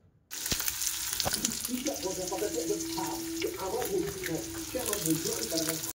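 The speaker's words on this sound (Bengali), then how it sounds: "তো আমি তেলের মধ্যে কালো জিরা, শুকনো লঙ্কা ফোড়ন দিয়ে দিয়েছি" Black cumin seeds and dried chillies sizzle in hot oil in a pan, a steady crackling fry that starts abruptly and continues close up, with a faint voice murmuring underneath.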